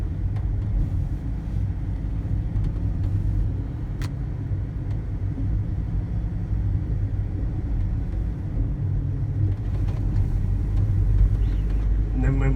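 A car drives out of a built-up area in the Blue Mountains of Australia with a steady, loud low rumble of engine and road noise throughout, heard from inside the vehicle, with a voice talking over it.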